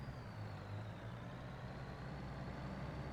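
A Mack truck pulling a lowboy trailer rumbles along in Farming Simulator 25, its heavy diesel engine droning steadily and loud with a faint high whine above, no talk.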